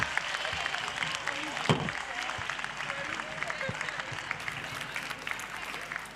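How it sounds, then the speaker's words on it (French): Audience applause at a youth prize-giving ceremony, steady clapping from a medium-sized crowd throughout, with a few louder individual claps and faint voices underneath. "Vous pouvez les applaudir."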